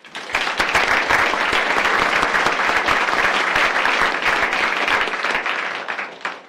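A conference audience applauds a speaker coming on to talk about rights for the Colorado River, producing dense, loud, sustained clapping that rises quickly, holds steady for several seconds, then tapers off.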